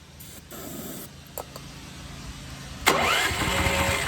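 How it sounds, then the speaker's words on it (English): A Champion 9000 watt generator with a clogged carburetor is cranked, a few short pull-start strokes followed by a sputtering engine burst that runs briefly without settling into a steady idle; no talking. "See how it tries to start? So that means our carb is clogged"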